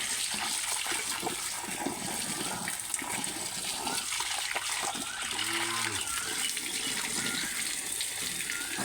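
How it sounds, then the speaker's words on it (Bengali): Water gushes out of a hose in a steady, loud rushing stream, pouring continuously without pause. "এই যে পানিটা ছেড়ে দিলাম এখন"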